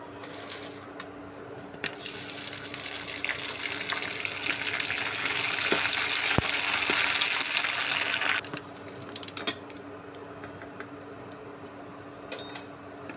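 Sun-dried sabudana papad spiced with red chili is deep-fried in hot oil, giving a steady bubbling sizzle that swells for several seconds and then cuts off abruptly, with quieter crackles before and after.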